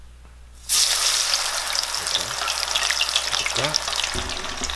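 Battered okra frying in hot grease, a loud steady sizzle that bursts on suddenly and then crackles and bubbles continuously up close, with brief voices in the background.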